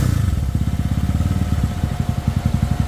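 A Honda Click 200cc scooter fitted with a dual radiator runs close by, its small engine chugging in rapid, even low pulses with a slight rise in pace, heard alone without talk.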